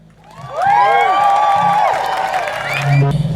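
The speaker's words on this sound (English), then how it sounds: "Let's give a warm welcome and a round of applause for Ayana." A crowd at an animal rights march in London breaks into applause and cheering, with whoops and shouting voices rising together and holding steady, loud and near.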